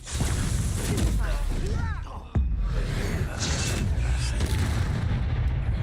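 Confringo fire spells bursting in Hogwarts Legacy, deep booming blasts with crackling debris and whooshing magic effects, loud and dense, mixed with a spoken voice.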